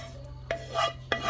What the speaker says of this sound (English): Go ahead and add that right into our baking pan.